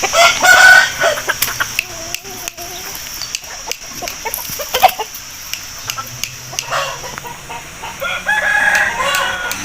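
A yellow Aseel fighting rooster, recently bought from Mianwali and not yet fought, crows and clucks close by among busy yard noise, with a few short calls scattered through and faint voices in the background.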